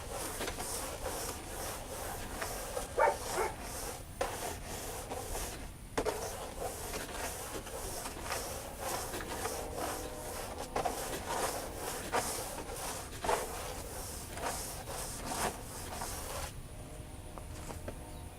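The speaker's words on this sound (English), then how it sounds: "I'm just going to reach up here, give this a little quick scrub." A deck brush scrubs house siding in steady rasping strokes, close and fairly soft, continuing with only brief pauses.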